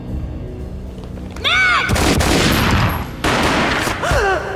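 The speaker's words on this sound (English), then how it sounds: "A gunshot boomed and she fell down in slow motion." Loud gunfire bursts from the video game Max Payne Remastered boom and crackle in quick succession, with sharp swooping whistles between them, close and harsh like a game soundtrack.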